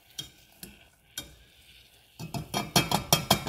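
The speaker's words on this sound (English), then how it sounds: "once I know it's sizzling, I'm just going to break things up just a little bit." Peach and berry jam fruit cooking in a pot, with a few soft taps and stirring scrapes before a run of rhythmic bubbling, spattering sizzle and utensil pressing in the last second or so, no talk.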